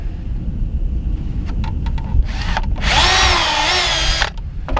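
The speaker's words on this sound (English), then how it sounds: "so then I can drill it out." A power drill bores into a clamped greenhouse frame: a few short taps and spins at first, then a loud, steady high-pitched whine for over a second before it stops.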